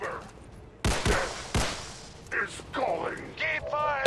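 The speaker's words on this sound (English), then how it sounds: "fire the big 45 at him" A big .45 handgun fires in the XCOM 2 game, two loud, sharp, close blasts spaced under a second apart with echoing tails, followed by softer in-game effects and voiced chatter.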